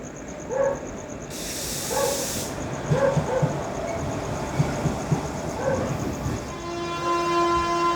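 The Mangaluru Mumbai Superfast Express pulls out of Karmali station at night, with a burst of hissing air, rhythmic wheel clatter over rail joints, and a long steady horn-like tone rising near the end, heard from aboard the train.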